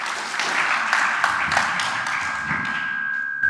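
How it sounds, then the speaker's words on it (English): Steady, dense applause from an audience at an annual civic Holocaust Memorial Day event in Sheffield, a continuous wash of clapping at moderate level that holds for several seconds, with a faint sustained tone underneath. "please give an enormous Sheffield round of applause to my friend Hedi"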